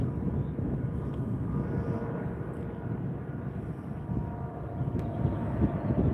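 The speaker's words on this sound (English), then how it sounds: "That's the British Airways A380. It's going to turn right in front of us here." A British Airways Airbus A380 airliner taxiing at LAX produces a steady, loud low rumble of jet engines that fills the whole stretch with no breaks, close by and continuous, with no voices over it.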